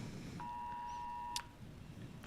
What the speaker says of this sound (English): So Amber alert on everyone's phone.